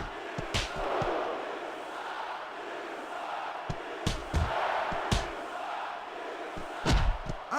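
A crowd roars in the WWE SmackDown vs Raw 2006 wrestling video game on PS2, a sustained cheer punctuated by sharp slams and impacts from the ring, with a commentator's voice now and then.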